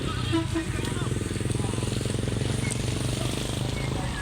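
A motorcycle engine runs steadily and close by with a throbbing idle rhythm, and someone talks over it throughout.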